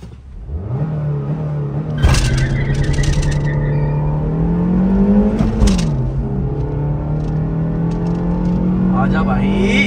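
A fourth-generation Honda City accelerates hard in a drag race against another fourth-generation Honda City, its engine note climbing steadily through the gears with a brief dip at each shift, loud and close, as people talk over it.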